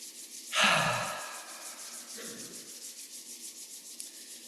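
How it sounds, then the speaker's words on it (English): Palms rubbed briskly together during a gentle movement and breathing practice, starting with a loud, close friction swish that fades into a softer, steady brushing hiss. "Rub the palms together."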